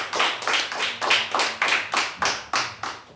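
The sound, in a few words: audience applause in church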